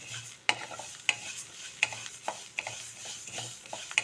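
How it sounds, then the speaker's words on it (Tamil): Ragi grains dry-roasting in a pan crackle with sharp, scattered pops at irregular intervals over a faint background hiss, fairly quiet and close. "பொரிய ஆரம்பிக்குது இப்போ தான்"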